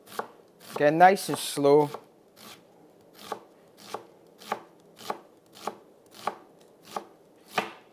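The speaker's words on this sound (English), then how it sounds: "And then we take the onion and cut from the side and just run the knife through." A knife cutting through an onion on a chopping board, with about nine evenly spaced, crisp chops after a person speaks briefly at the start.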